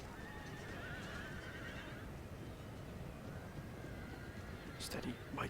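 Cavalry horses whinny repeatedly in the Empire: Total War battle game, the neighs rising over a dense, steady battlefield rumble, with a sharper cry near the end.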